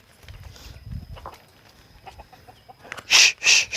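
Chickens at a rural home cluck softly and intermittently at first, then burst into three loud, close squawking calls toward the end.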